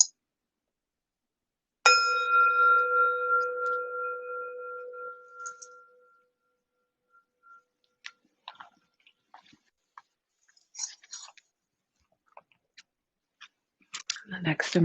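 A meditation bell is struck once, ringing out with a clear sustained tone that fades slowly over several seconds, followed by quiet scattered small clicks and shuffling near the end.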